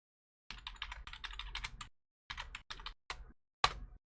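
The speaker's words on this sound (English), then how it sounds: "And we can type in our username." Keys clatter on a computer keyboard as a username is entered at a login screen: a quick burst of close, crisp keystrokes, then a pause and a few separate presses ending in one firmer tap.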